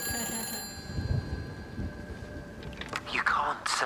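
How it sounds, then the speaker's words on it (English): A telephone rings inside the video game Everybody's Gone to the Rapture, a steady electronic trill with a high tonal line over a low, busy background. Player speech overlaps it, and the ringing thins out near the end. "We hear a phone. The phone is ringing."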